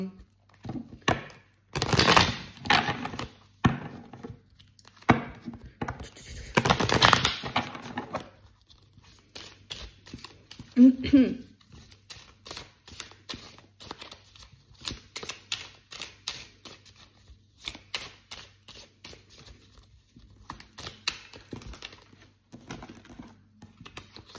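A deck of playing cards being shuffled during a tarot-style card reading, heard as rapid riffling bursts of crisp flicks and snaps that come and go close to the microphone, with brief pauses between runs.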